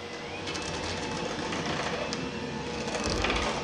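An electric hand mixer runs on its lowest speed through pumpkin bread batter as flour is worked in, a steady close whirring buzz with faint knocking of the beaters against the bowl.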